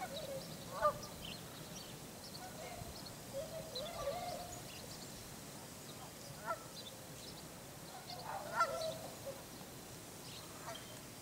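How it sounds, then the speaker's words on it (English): Scattered honks and calls of Canada geese carry from a distance across a bay over a faint, steady background hiss, coming in irregular bunches. "Your Canada geese."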